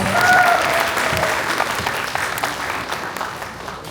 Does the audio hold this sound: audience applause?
yes